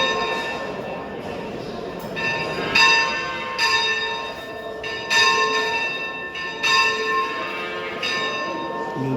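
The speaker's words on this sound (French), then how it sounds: "Le marché n'ouvrira qu'à 10 heures précises au son de la cloche." A bell rings to open a calf market in Saint-Laurent-de-Chamousset, sounding as repeated clangs every second or two over a steady background of crowd and ambient noise.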